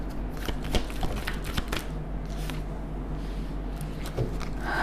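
Tarot cards being shuffled by hand, a quiet run of soft riffling and flicking sounds in irregular bursts over a low steady background hum.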